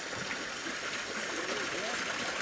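A small waterfall pours steadily into a hot springs pool at a resort, giving a continuous broadband rush of falling water close by with no other sound over it.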